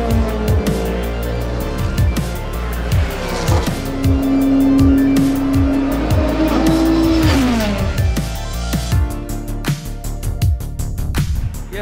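GTP prototype race cars roar past on track at Watkins Glen, engines screaming through repeated sharp pass-bys with rising and falling pitch and a long tire squeal, loud and close, with no talk.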